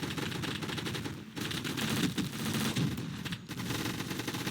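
Rapid automatic gunfire from the video game Gun Fire Arena, dense overlapping bursts of shots fired continuously for several seconds with brief dips, loud and close.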